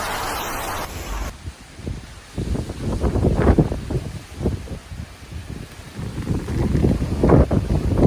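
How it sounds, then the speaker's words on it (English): Storm wind gusts roar and buffet in rising and falling surges, loud and rough like wind hitting the microphone, after a brief different sound at the start. "listening to the howling winds that threatened to dismantle their homes"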